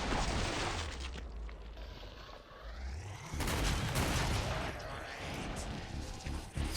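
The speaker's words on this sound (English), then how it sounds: "you're going to see me just emptying the gun" Rapid gunfire from a support-class weapon being emptied in Killing Floor 2 on the Spillway map, a dense, loud burst of shots with mechanical clatter and crashes, over a continuous game background.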